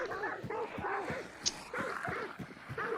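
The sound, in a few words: dogs barking in a hunting video game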